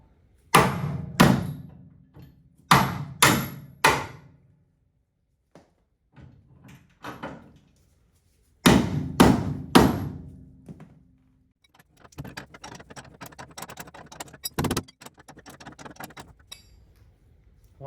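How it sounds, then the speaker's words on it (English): A bolt is tapped through the front suspension of a 1971 Datsun 240Z in a workshop, with close, sharp metallic hammer strikes in quick pairs and triplets, separated by pauses and followed by lighter clinking and rattling. "Tap it through."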